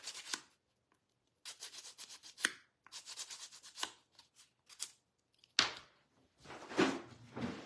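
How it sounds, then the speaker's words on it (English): A chalk art craft piece is sanded by hand, with short rough rubbing strokes in uneven bursts separated by pauses, close and fairly quiet. "I got to sand it down"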